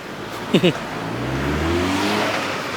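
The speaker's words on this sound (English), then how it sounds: "Look at that car stopped for us." A car at a street crossing in Luxembourg, its engine idling and humming as it slows and waits, moderately close, with brief bird chirps and a voice talking over it.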